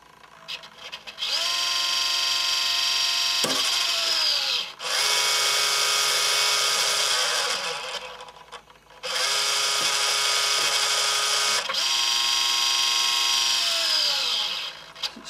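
A Hitec 785 sail servo strains to hold sheet load, whirring in loud, bright motor bursts of several seconds each, separated by short dips and whining pitch changes.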